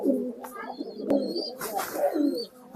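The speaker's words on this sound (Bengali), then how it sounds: "কবুতর তো অনেক আছে আমার কাছে" Local domestic pigeons coo several times, low and close, with a few faint higher chirps mixed in.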